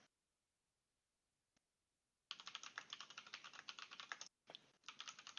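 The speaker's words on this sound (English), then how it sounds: "Sorry, I know my keyboard's probably loud." Rapid, close clatter of typing on a computer keyboard, starting after a quiet stretch and running steadily with one brief pause; no talking.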